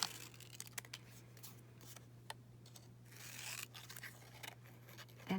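Scissors snip and scrape around a piece of junk journal paper, in quiet, irregular cuts with light rustling set against a steady low background hum.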